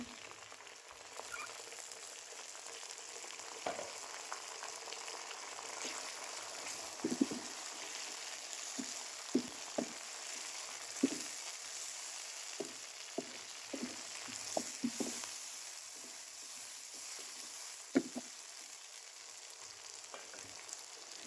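Tomatoes and green onion fry with browned onions in a pan while making chicken biryani, a soft steady sizzle with scattered stirring clicks and scrapes, fairly quiet and without speech.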